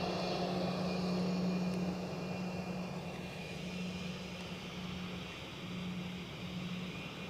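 A plane at Edinburgh Airport gives a distant, faint, steady engine rumble with a droning tonal hum that wavers on and off throughout.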